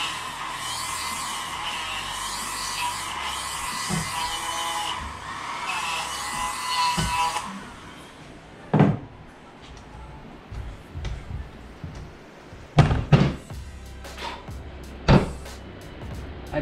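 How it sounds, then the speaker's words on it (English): A motorized tool bevels the drilled finger holes of a bowling ball held in a KMT personal drilling jig. It gives a steady whirring hum for several seconds, then stops, leaving scattered knocks and clunks of handling. "So once you get it drilled, all you got left is just to bevel the holes."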